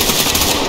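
Continuous automatic gunfire from AI enemies in the tactical shooter Ready or Not, a dense, loud burst of rapid shots filling the whole moment with no pauses.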